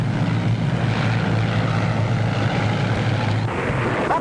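A propeller plane's engine drones loudly and steadily, a close, continuous throbbing roar with no voices, as the plane comes in to land in poor visibility.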